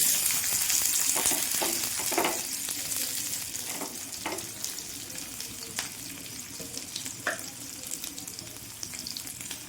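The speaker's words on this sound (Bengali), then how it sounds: "পেঁয়াজটা ভাজা হয়ে যাবে তাড়াতাড়ি নরম হয়ে যাবে পেঁয়াজটা আমি লাল লাল করে একটু ভেজে নেব" Chopped onions with a dried red chilli fry in oil in a pan for a Bengali cucumber and chana dal dish, giving a steady soft sizzle with occasional stirring scrapes and clinks and no talking.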